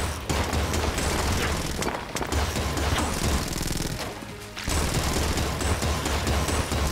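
Rapid gunfire from the Enter the Gungeon video game during a floor 2 boss fight, a dense, continuous burst of shots that drops out briefly near the end and then resumes, loud and unbroken by talk.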